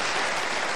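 TV studio audience applauding, a dense, steady burst of clapping from many hands, loud and close, held evenly for under a second.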